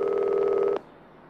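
A telephone rings in the mobile video game Reporter 2: one steady electronic ring tone holds for under a second and then cuts off abruptly into quiet, with no voices.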